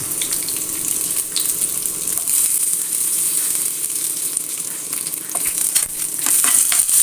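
Chopped ginger sautés in capsicum masala in a pan, a steady close sizzle with bright crackling and occasional stirring scrapes, no voices.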